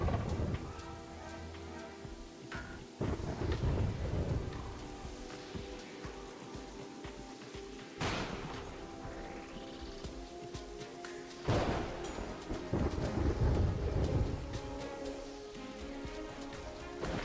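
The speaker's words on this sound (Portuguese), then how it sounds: "Nossa, trovão." Thunder rumbling through steady rain in a Terraria game, with several loud swelling rolls and crashes over a continuous wash of rainfall.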